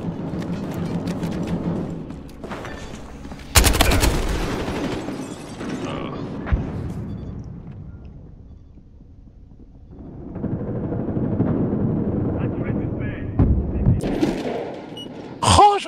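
Pistol gunfire in the video game Battlefield Hardline, in a bank at night: a few loud, sharp single shots spaced apart over a murmur of game sounds.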